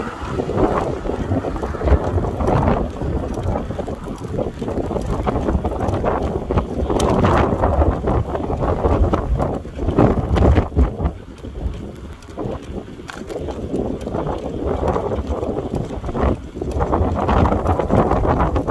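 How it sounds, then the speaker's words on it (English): Strong wind buffets the microphone in a continuous rough roar during a bike ride into a headwind on a route from Crombie Park to Monikie in Scotland. "cycling against the wind."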